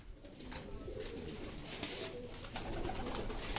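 A purebred Sialkoti pigeon coos softly in short repeated bursts, close by over a low ambient hiss.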